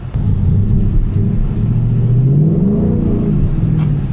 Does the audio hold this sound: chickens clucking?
no